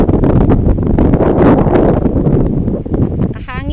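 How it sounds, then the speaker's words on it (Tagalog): Strong wind gusts across a farm field of vegetable plants including bitter gourd, roaring and buffeting close to the microphone in loud bursts, with rustling and a brief bit of talk near the end. "Sobrang hangin, nagbabagsakan na sila."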